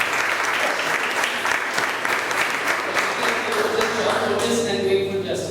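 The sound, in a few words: Toastmasters meeting audience applause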